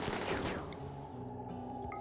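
Colonists fire guns in the video game RimWorld: a quick flurry of overlapping gunshots at the start fades into a droning, tonal game background.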